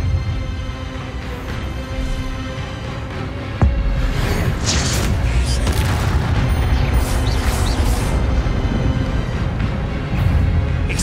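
Spell blasts and explosions in Hogwarts Legacy combat, a dense, continuous barrage of booming impacts and bursts that jumps louder partway through and stays loud, with no speech over it.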